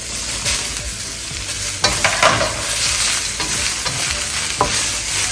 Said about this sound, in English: And then in goes the potatoes and the steak.